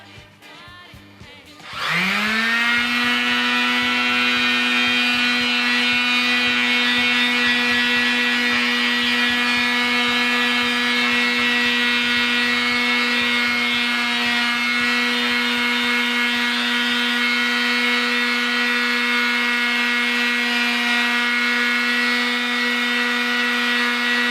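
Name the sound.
80 grit mouse sander shaping EVA foam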